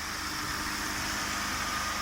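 A Mercedes W210 engine idles steadily on its original, unmodified exhaust, with a low, even rumble and a hiss of exhaust, constant throughout with no talking.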